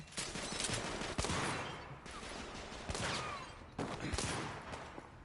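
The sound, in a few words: gunfire from enemies in the video game The Order 1886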